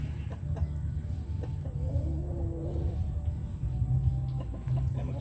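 A hen clucks softly and intermittently nearby over a low steady background hum, with faint scratchy pecking at eggshells and oyster grit between the calls.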